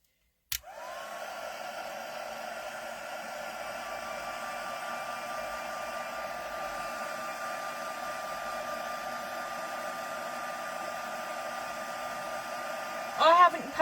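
A hair dryer blows over craft card panels, a steady close whooshing roar that starts suddenly and holds evenly for over twelve seconds before a brief louder bump at the end.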